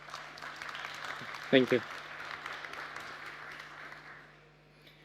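An audience at a pitch competition final gives a soft, distant round of applause to welcome a presenter. The clapping fades out as a nearby voice speaks briefly.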